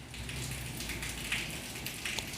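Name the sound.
rain falling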